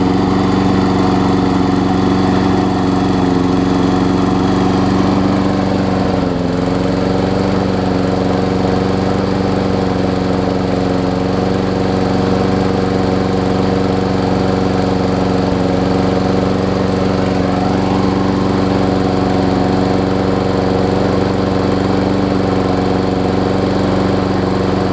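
A Briggs & Stratton Quantum engine on an MTD push lawn mower runs steadily at close range, a loud continuous drone with a small dip in pitch partway through and no talking.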